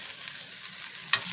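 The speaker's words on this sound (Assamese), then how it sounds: "যেতিয়া ভাজি থাকিব আপোনালোকে তেতিয়া হাই ফ্লেমত ভাজি ল'ব" Veg street-style chow mein stir-frying in a pan over a high flame gives a steady close sizzle, broken near the end by one sharp metallic clatter of the utensil.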